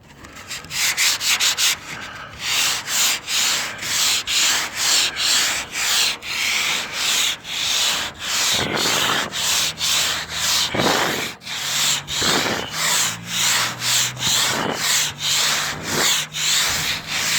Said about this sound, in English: Now this is like really fine, or not fine sandpaper, really coarse sandpaper.